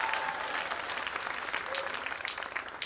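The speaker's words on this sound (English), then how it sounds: "You may give the Lord a clap offering as you sit." A church congregation clapping hands together as an offering during a service, steady crowd applause heard at low level with faint voices underneath.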